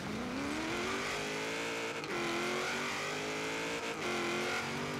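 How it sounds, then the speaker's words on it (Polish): A Chevrolet Camaro race car in Forza Horizon 3 drives close behind, its engine droning loud and continuous, with pitch rising and shifting through gear changes and a brief dip partway through. "jedzie Camaro za mną"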